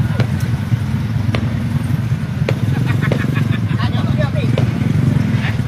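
A motorcycle engine drones steadily on the road with low rumbling hum, while people talk over the engine noise.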